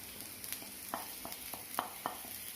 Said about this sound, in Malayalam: പച്ചമുളക് ഇതിട്ടിട്ട് നമുക്ക് നല്ലപോലെ ഒന്ന് വഴറ്റിയെടുക്കാം